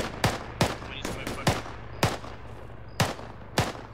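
Sharp gunshots crack in Arma 3 while the player is under fire, about eight loud, close reports at irregular intervals over a low rumble.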